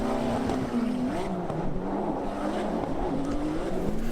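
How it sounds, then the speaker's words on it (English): A Formula D pro-am drift car's engine at an event is failing, giving a strained, wavering drone that rises and sags unevenly. It is heard at moderate distance with no talk over it. "Jeff is experiencing engine failure right here, and his engine is just about to blow up"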